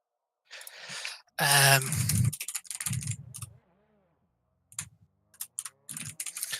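Typing on a computer keyboard comes in close, quick bursts of clicks separated by pauses, with a louder burst of noise early on and no talk.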